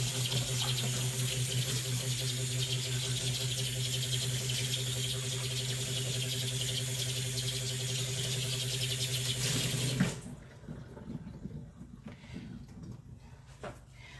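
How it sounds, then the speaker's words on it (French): Running tap water splashes steadily over a cake mould held under the faucet, a broad hiss with a steady tone that stops abruptly after about ten seconds, leaving a quiet room with faint clinks. "On doit passer le moule sous l'eau froide, sous l'eau très chaude."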